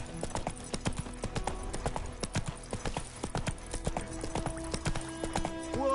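Hooves of Geralt's horse Roach clatter in a fast, steady galloping rhythm in The Witcher 3, dense regular clip-clops with a faint tonal game-music bed underneath and no talk.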